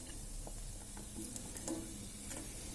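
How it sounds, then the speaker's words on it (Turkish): Red and green peppers sautéing in a pan, a quiet steady sizzle broken by a few soft stirring scrapes and clicks, with no voices. "Üzerine kapya ve yeşil biberimi de ilave ediyorum. Biraz da bunlarla birlikte kavuruyorum."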